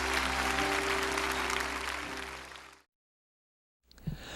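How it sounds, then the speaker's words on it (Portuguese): A church congregation claps together in warm, steady applause that fades out and cuts to silence, with the noise of the room returning briefly afterward. "Aplauda o Senhor."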